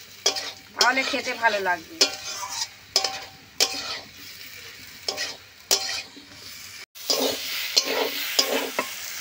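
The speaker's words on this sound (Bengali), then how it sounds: "এইভাবে নেড়ে চেড়ে বেশ ভালো করে কষাতে হবে" Egg and soybean curry stirred and fried in a pan, with repeated close scraping strokes and sizzling in a steady rhythm and occasional utensil clinks. Someone speaks briefly near the start.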